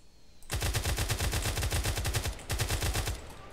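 Rapid automatic gunfire in a GTA multiplayer match, a sustained burst of evenly spaced loud shots, a short pause, then another burst, close and dominant with no talk.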